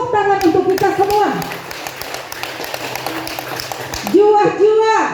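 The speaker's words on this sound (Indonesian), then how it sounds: "Kita berikan tepuk tangan untuk kita semua" A group of women at an indoor gathering bursts into several seconds of lively clapping, framed by a speaker's amplified voice just before and after.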